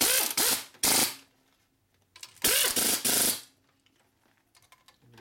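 A ratchet or power tool tightens bolts on the case of a 1992 Harley-Davidson 80ci Evo motor during a rebuild: two loud mechanical whirring bursts about a second each, then quieter clicks and small metallic taps nearby.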